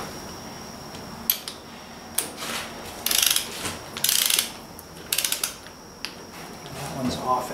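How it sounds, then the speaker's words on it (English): A torque wrench snugs down push rod nuts on a Ford 800 tractor, making close ratcheting clicks in short rapid bursts between pauses, with a faint steady whine in the background. "These snug down, and I got the torque wrench here ready to go to tighten up them"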